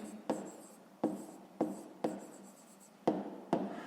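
Pen strokes scratch across paper in a fifth-grade maths lesson, six distinct bursts each starting sharply and trailing off, close and clear with no talking over them.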